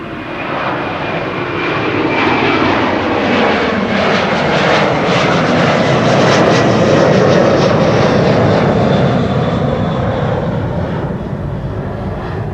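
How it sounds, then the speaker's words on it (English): A Saudia cargo jet in a new livery departs Amsterdam Schiphol, its engines building into a loud, steady roar that stays strong and sustained throughout, with no voices. "we can immediately transition to the departing Saudia cargo with the new livery"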